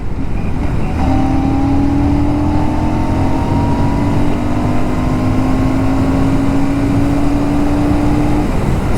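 Riding a Classic 650 motorcycle on an open road, a loud, constant wind blast roars close to the rider, with a steady engine tone running underneath throughout.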